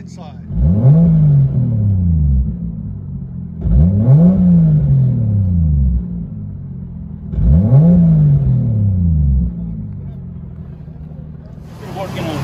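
Inside a 2001 Lexus IS 300 with a 2JZ engine and titanium muffler exhaust, three loud revs rise and fall with a deep rumble, spaced a few seconds apart. Voices murmur faintly in the background.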